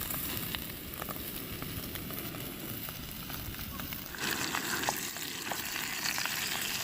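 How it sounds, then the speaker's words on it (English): Bacon frying in a pan over a campfire at a lakeside camp, giving a steady close crackling sizzle with faint ticks and pops that grows a little louder partway through. "set everything up and start cooking the bacon"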